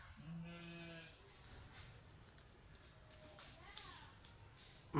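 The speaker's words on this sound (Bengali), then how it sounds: "এই মালটা বাগানের ভিতরে গাড়লগুলো ছড়িয়ে ছিটিয়ে ঘাস খাচ্ছে" Garol sheep graze loose in a net-fenced malta and lemon orchard, giving a couple of faint, wavering bleats over a soft outdoor background hum.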